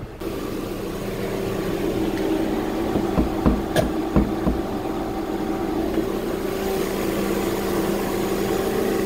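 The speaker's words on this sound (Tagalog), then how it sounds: "So hanggang ngayon, ganyan pa rin kaganda yung tunog ng kanyang makina." Suzuki Ertiga car engine idling with a steady low hum and faint mechanical ticking, heard close up, with a few brief knocks in the middle.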